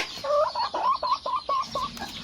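A laying hen clucks in a small-farm egg coop, a run of eight or so short rhythmic clucks rising and falling, close and fairly loud with no talk.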